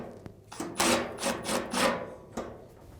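Several short whirring bursts of a power screwdriver, close by, pausing between spins as a screw holding the exhaust duct is backed out of the back of a Samsung dryer.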